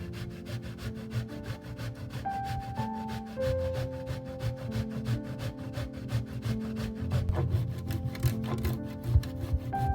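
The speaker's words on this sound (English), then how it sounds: "grate some hard cheese" Hard cheese is grated over spaghetti with ground meat, producing a steady, close rasping scrape of repeated quick strokes that runs continuously without talk.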